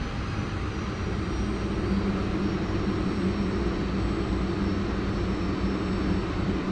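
An F-86F Sabre jet in the DCS flight simulator, its engine a steady, loud broadband roar that holds constant throughout with no talk over it.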